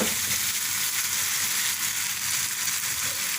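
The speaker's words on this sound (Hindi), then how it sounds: "एक दफ़ा इसको पलट देते हैं।" Chicken pieces frying in a covered pan for a healthy salad, a steady close hiss and sizzle with faint crackles running throughout, with no voices.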